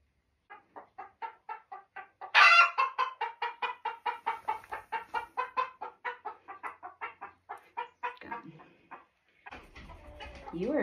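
A pet hen clucks in a long rapid series of short, evenly spaced calls, close and clear in a quiet room, building in loudness before trailing off, followed by a little handling noise.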